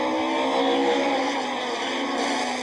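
Touring race cars such as a BMW, Toyota Camry and Audi rev on the starting grid at Aldo Scribante, a dense, loud engine roar holding steady for a couple of seconds.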